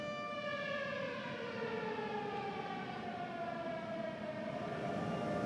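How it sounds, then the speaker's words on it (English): A wailing air raid siren in Ukraine drones continuously, its tone slowly gliding downward, heard at a distance with a steady rumbling background. "Yes, I can hear the siren."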